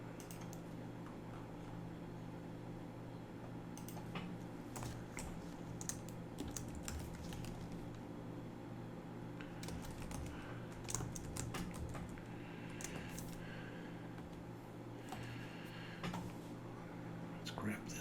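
Clicky bursts of typing on a computer keyboard while writing HTML code, irregular clusters of key presses with pauses between them, set against a low steady hum and quiet talk.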